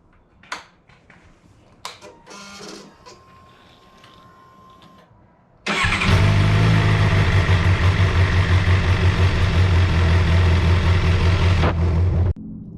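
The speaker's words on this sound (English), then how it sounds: "start the bike up to warm it back up" A 2016 Suzuki GSXR 750 motorcycle engine starts after a few clicks and handling noises, then idles loudly and close with a steady low throb for about six seconds before cutting off.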